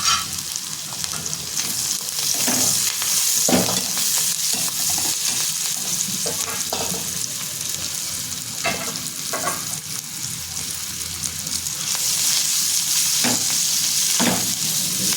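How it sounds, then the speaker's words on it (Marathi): Roasted leafy greens stir-fried with a spoonful of turmeric and asafoetida in a hot pan give a steady, loud sizzle, with a scrape of the spatula now and then. No one speaks. "ह्याच्यामध्ये जे पाला भाजलेला आहे ते टाकून परतून घ्यायचं"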